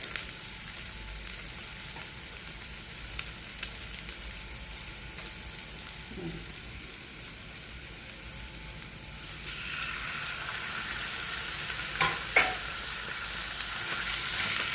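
Minced beef and garlic frying in a pan with onion, a steady broadband sizzle throughout, with occasional stirring clatter and a brief utensil scrape near the end.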